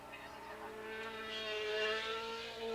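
Suzuki racing motorcycles passing on the Willow Springs track during a 1986 Formula USA race, a high-pitched engine whine that rises and swells as the bikes approach, under commentary.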